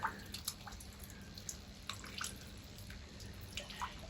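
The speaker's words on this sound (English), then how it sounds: "water actively running through the ground" Rainwater runoff trickling and seeping through the ground beside a house near an understair shed, heard as faint, sparse drips and small splashes over a low, steady background hiss.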